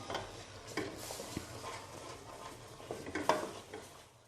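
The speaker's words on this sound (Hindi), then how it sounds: "ये डाल देंगे और इसे कंटिन्यूसली हिलाना है ताकि मैदे के लम्प्स नहीं बने" A spoon stirring date halwa with flour and cardamom in a pan, quiet scraping strokes with a faint sizzle and a few light clinks against the pan, close and soft with no talking.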